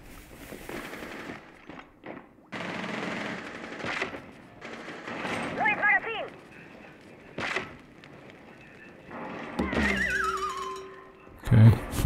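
Gunfire in Rainbow Six Siege while shooting at the operator Junker, with loud close bursts of automatic fire and single shots among thuds and game effects, spread across the clip in short clusters.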